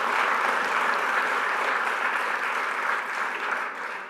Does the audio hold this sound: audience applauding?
yes